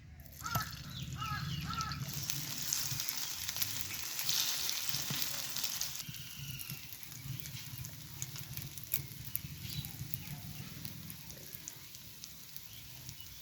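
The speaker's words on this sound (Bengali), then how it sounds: "এক করে স্ন্যাক্সগুলো তেলে দিয়ে দিব।" Semolina and raw potato snacks shallow-fry in a little oil in a frying pan with a steady, close hiss that runs throughout. Faint crow calls sound in the background, and nobody speaks.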